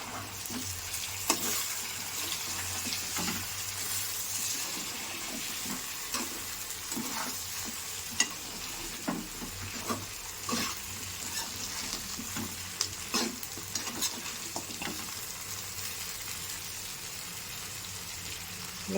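Chicken pieces coated with garam masala are stirred in a frying pan, giving a steady sizzle with irregular scraping and clinking of the spoon throughout, close and moderately loud with no talk.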